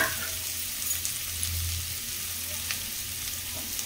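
Onion, tomato, dried red chili, bay leaf and cashews frying in hot oil in a pan for butter chicken, giving a steady close sizzle and crackle with no talking.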